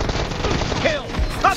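Rapid automatic rifle fire in the PUBG Mobile team deathmatch mode, a dense continuous burst of shots heard loud and close, with game sounds around it.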